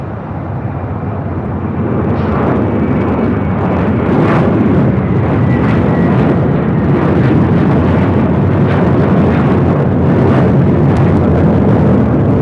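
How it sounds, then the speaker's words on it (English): A JetBlue Airways A321 jet takes off at LAX, a loud, sustained roar of engines that builds over the first couple of seconds and then holds steady and powerful. "This is This Magic Moment, taking off to Boston. It's JetBlue Airways Flight 688 on an A321."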